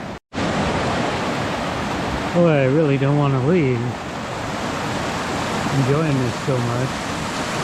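Creek swollen with floodwater after heavy rain, a steady broadband rush of fast water filling the whole clip, loud and close, with someone talking over it partway through.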